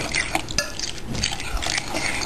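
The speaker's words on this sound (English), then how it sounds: "Mix it all together." A veggie egg casserole mixture with green onions being stirred together in a bowl, giving short wet clicks and liquid sloshes in a quick, uneven rhythm, close and moderately loud.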